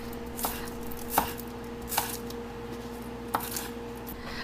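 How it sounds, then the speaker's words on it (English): Green onions are chopped on a cutting board, four crisp knife strikes spaced unevenly over a quiet kitchen hum, close and distinct with no speech. "Grab a cutting board and chop some green onions."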